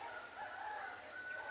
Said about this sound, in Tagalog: May muhuni dyan pero ayaw lumapit kasi siguro baka takot sa mga tao to, mga ibon na to